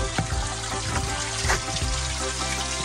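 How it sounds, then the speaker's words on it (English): Fresh water flows steadily through a channel beside a walking trail in Newfoundland, a continuous close rushing and gurgling wash with no voices. "Agos ng fresh water."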